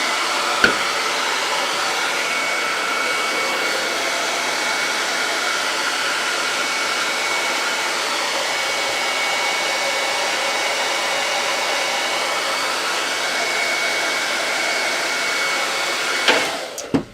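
Close, loud hair dryer blowing without pause, an even rushing drone with a thin whine, a click near the start and clatter as it stops.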